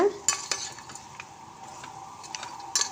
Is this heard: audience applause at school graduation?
no